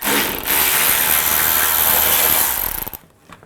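Ratchet with a 10mm socket loosening a nut on a 2003-10 BMW X3 front suspension, a dense continuous rapid clicking for nearly three seconds, close and loud, then stopping.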